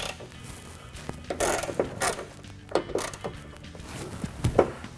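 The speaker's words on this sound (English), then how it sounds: "Remove the two nuts with a 10mm socket." Ratchet with a 10mm socket loosening nuts on a Jeep Wrangler hood catch, heard as scattered rapid clicking bursts and metallic handling noises, close and moderately quiet, with no speech.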